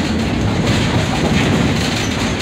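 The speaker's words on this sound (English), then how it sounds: "Everyone should remain seated at all times while the train is in motion." Stone Mountain Park excursion train rolling along, a loud, steady rumble with continuous rail clatter and wheel noise, close and unbroken, with no voices.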